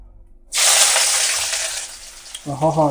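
Vegetables with a good amount of carrot hit a pan on low flame for egg rolls, bursting into a loud, steady frying sizzle that slowly eases, with a brief voice cutting in at the end.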